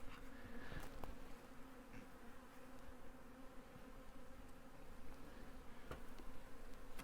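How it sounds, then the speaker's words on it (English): Honeybees in an open hive box produce a steady, dense buzzing drone, faint and continuous throughout, with occasional soft knocks or taps. "it's just a box of bees"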